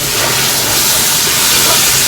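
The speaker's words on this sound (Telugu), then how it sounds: "కొన్ని వాటర్ వేస్తున్నాను కొద్దిగా" A little water poured into hot masala in a cooking pan sets off a loud, continuous, steady sizzling hiss that fills the whole moment.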